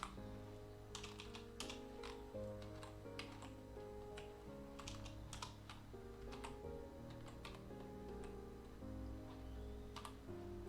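Steady typing on a computer keyboard while entering a menu list in a document, with quick clustered key taps and occasional heavier strokes over a low background hum, close and clear with no talking.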